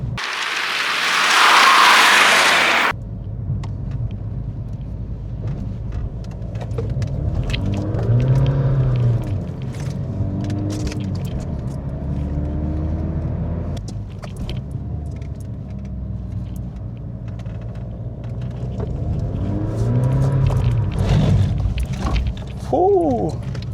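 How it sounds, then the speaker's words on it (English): A slow rear-wheel-drive diesel BMW with an open differential drifting on a wet, leaf-strewn road, its engine rumbling steadily with brief tire scrubbing, heard close from inside the car after a short loud burst at the start. "Can you drift a slow diesel?"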